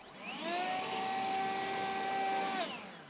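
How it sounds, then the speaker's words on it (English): A RYOBI 36V HP brushless whisper leaf blower (RBL360HP) spins up, holds a steady whooshing airflow with a smooth motor whine for about two seconds, then winds down, heard close and alone. "This is the 36-volt brushless HP whisper blower from RYOBI."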